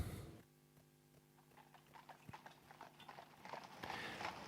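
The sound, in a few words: horses clip-clopping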